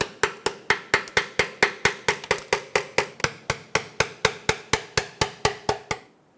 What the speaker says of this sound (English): I'm going to very carefully and gently tap down the side of the pan